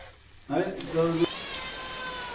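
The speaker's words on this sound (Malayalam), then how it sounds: "ഇവിടെ പൂച്ച ഫുഡിന് വേണ്ടിയിട്ട് വെയിറ്റ് ചെയ്ത് നിൽക്കുന്നുണ്ട്" A single drawn-out cat meow, close and clear, followed by quiet room noise.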